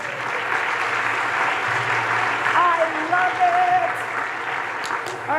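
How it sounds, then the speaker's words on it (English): Audience at a keynote event applauds as a volunteer joins the speaker on stage, a dense steady clapping throughout with a few voices and cheers rising over it. "Gentlemen in the house, round of applause."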